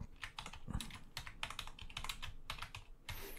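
Typing a commit message on a computer keyboard, a quick irregular run of crisp key clicks close by, with no voices.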